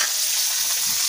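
Fish fries in hot oil with a steady, bright hiss of close sizzling, even and uninterrupted, with no voices.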